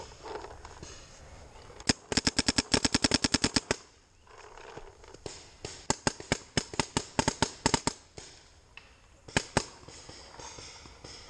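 Planet Eclipse Geo 3.5 paintball markers firing during a woodsball game: rapid bursts of sharp pops in quick strings, loud and near, pausing and resuming across the clip.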